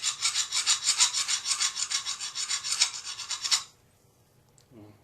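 A hand file strokes across a slightly concave lathe chisel in a steady run of about a dozen even rasping passes, loud and close, then it stops and leaves near silence.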